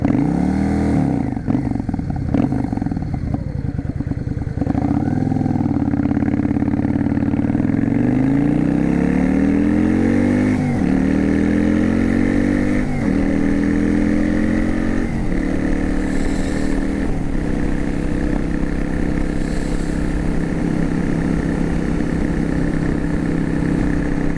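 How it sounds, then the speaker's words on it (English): A stock Yamaha V Star 650 Classic cruiser motorcycle engine rumbles steadily and loud, revving up and down several times with deep throaty pulses, no voices over it. "This thing just sounds so good for a stock bike."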